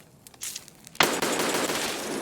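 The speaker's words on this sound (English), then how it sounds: "I shot at somebody" Gunfire in a first-person shooter game: a few sparse shots, then a sudden loud burst at about one second that rolls into sustained rapid automatic fire, close and dense.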